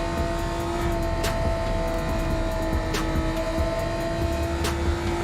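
Honda VTEC engine in Gran Turismo 7 revving hard with a steady, loud, buzzing high-pitched drone and a faint second tone above it, held throughout with brief clicks of gear or game effects.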